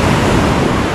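Ocean waves wash steadily onto Dốc Lết beach below the Hòn Khói peninsula on Văn Phong Bay, Khánh Hòa, a loud, continuous roar of surf with wind rumbling against the microphone.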